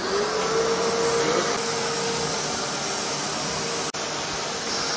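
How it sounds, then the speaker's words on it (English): A vacuum cleaner drones steadily and loudly close by, its motor whine holding constant with a brief dip near the end. "So it's like a bit of extra hoovering with Ricardo"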